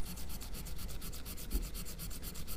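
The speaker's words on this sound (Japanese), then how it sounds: "これはサンドペーパーは240番です。 で、このように削っていきます。" Steady back-and-forth rubbing of 240-grit sandpaper over a wooden guitar fingerboard, close and even in rhythm, about eight strokes a second with no pauses.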